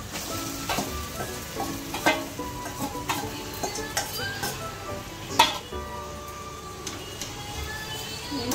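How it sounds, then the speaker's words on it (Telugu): Chicken sizzles in a pan with ginger while a utensil scrapes and stirs in irregular, sharp knocks over a constant close frying hiss. "ఇప్పుడు ఈ చికెన్ ఇందులో వేద్దాం."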